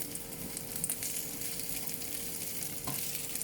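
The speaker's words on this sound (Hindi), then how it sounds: "हल्का सा फ्राई करते हैं, ये देखिए हल्की सी शाइन आ गई सब्जियों में" Mixed vegetables lightly frying in oil in a pan for chicken malai handi, a steady close sizzle with a soft spoon scrape, no voices over it.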